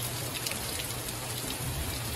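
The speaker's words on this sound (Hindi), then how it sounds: "अभी हो गए तगड़ा वाला बारिश" Rain keeps dripping and pattering after a heavy downpour at a house, a faint, even wash of drops with no voices.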